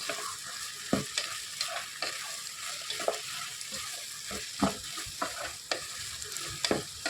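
Garlic and ginger sauté in a hot pan for mutton curry, with a steady oily sizzle broken by sharp scrapes and clacks of a spoon stirring at irregular intervals, close and fairly quiet.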